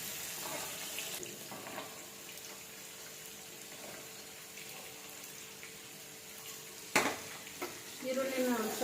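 Onions fry in hot oil with a soft, steady sizzle and occasional stirring scrapes, and a louder clatter and bubbling burst comes near the end.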